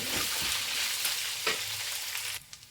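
Puffed rice churmuri ingredients frying in oil until crispy, a dense close sizzle with a few stirring scrapes that drops away near the end.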